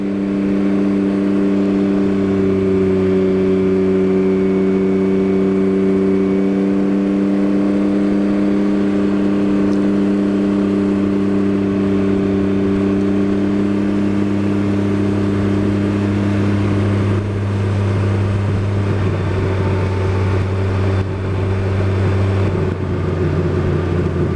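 Vehicle engine droning steadily while driving along Tellico Road, a continuous close hum with tonal whine that shifts pitch partway through as the speed changes, with no talk.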